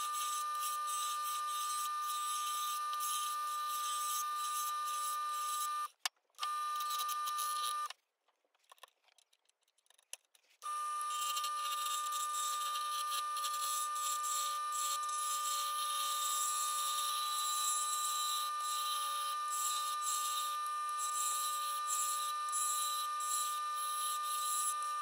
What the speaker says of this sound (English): Start turning with a roughing gouge until the square cross-section of the blank turns into a circle.